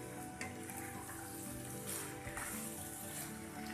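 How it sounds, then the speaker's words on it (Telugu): Mutton pieces frying over a high flame for a Nellore-style mango mutton curry, giving a steady, fairly quiet sizzle that holds evenly throughout with no talking. "ఈ మటన్ అంతా బాగా వేగిపోవాలి"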